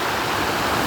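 Sea waves near a provincial shore wash in as a steady, close broadband rush with no distinct breaks, filling the short stretch on their own.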